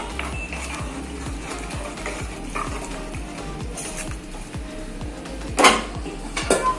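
Masala being stirred and mixed in a cooking pot with hot water added, for mutton paya: steady metallic scraping and clinking of a spoon against the pot, with a couple of louder clanks near the end, no talking.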